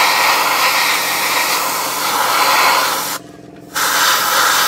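Close hiss of an airbrush laying a thin coat of paint on the underside of a 1/35 Takom British Chieftain Mk 10 model tank, steady and loud, with a short break before spraying resumes.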